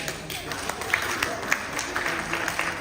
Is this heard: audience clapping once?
yes